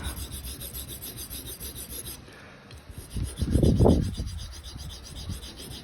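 A Japanese straight razor is honed on a sharpening stone, Coticule and black Arkansas: a faint steady rasping rub, then one louder, closer gritty stroke in the middle before it drops back to quiet scraping.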